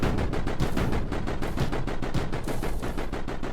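Turrets in the Mindustry video game fire bullets in a rapid, continuous burst, a fast machine-gun-like stream of dense, evenly spaced shots filling the whole stretch at a moderate level.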